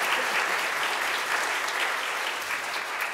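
A church congregation gives its choir a round of applause: many hands clapping together in a steady, even roar that fills the room from start to finish, with no talking.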